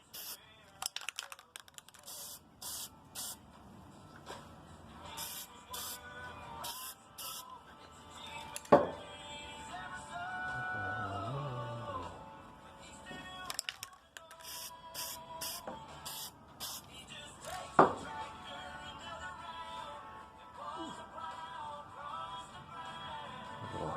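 Aerosol spray paint hisses in repeated bursts as a second coat goes onto a circa-1947 Warren-Teed 84-8 sledgehammer head, close and fairly loud, with quiet pauses and handling between passes.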